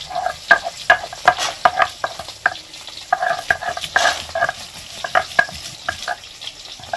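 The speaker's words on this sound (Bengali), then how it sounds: "দেখো মাছগুলো পুরোপুরি ভেজে নিয়েছি ভালো করে, এবার তুলে নিচ্ছি।" Catla fish pieces fry in hot oil with a crisp, crackling sizzle close to the ear, while spatula scrapes and taps against the pan come in quick irregular bursts, no voices present.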